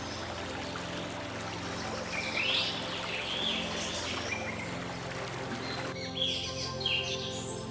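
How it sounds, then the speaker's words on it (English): High-pitched chirps of Amazon parrots in a forest break out in short bursts over a steady watery background hiss, sounding somewhat distant. "the high-pitched, bustling chirping of hundreds of Amazon parrots"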